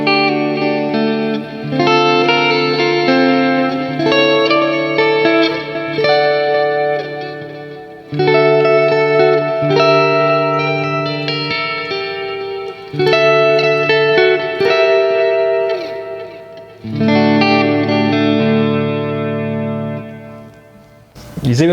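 A single-coil electric guitar played through a Peavey XXX amp plugin with delay and reverb, gain set at noon. Sustained chords and ringing notes carry a lush reverberant tail, loud and continuous for over twenty seconds.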